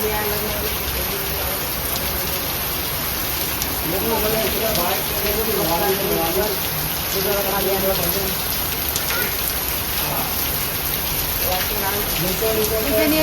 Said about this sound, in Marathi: पाऊस बघा आमच्याकडे किती आलेला आहे